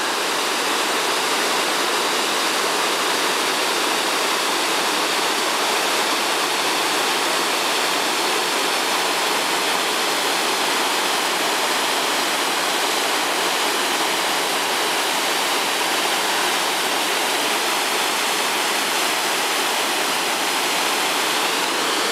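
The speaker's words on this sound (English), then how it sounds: "Rocky Glen Falls, nice." Rocky Glen Falls, a New Hampshire waterfall, roars in a dense, constant broadband rush that stays steady and loud from start to finish, with no voices over it.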